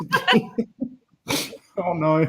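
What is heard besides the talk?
sneeze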